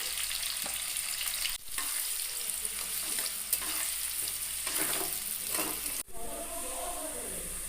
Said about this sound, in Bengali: কুচিয়ে রাখা পেঁয়াজগুলো দিয়ে দিলাম পেঁয়াজটাকে হালকা করে ভেজে নিতে হবে